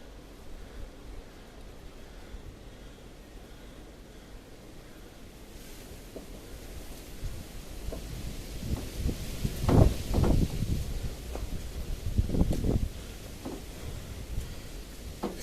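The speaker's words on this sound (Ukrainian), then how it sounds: "дуже вітряна погода" Strong wind gusting outdoors, a steady broad rush that swells into louder buffeting bursts toward the middle and end.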